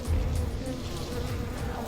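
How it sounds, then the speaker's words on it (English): Bees swarm close around a person's head outdoors in North Carolina's Great Smoky Mountains, a loud, continuous, low buzzing hum with the pitch wavering as they move nearby. "We've got a few bees that are swarming my head right now, but they haven't stung."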